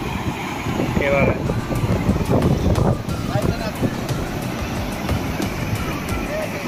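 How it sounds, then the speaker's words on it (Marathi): Water from a large river waterfall pours down forcefully at a picnic spot, making a loud, continuous broadband roar. Faint voices come through beneath the rush. "इकडे वरतून पाणी येतं आहे बघा किती जोरदार"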